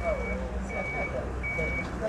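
Reversing beeps from a white bus waiting to pick up workers in Riyadh, a steady repeating electronic tone sounding over the low rumble of traffic and a running engine, with a voice talking nearby.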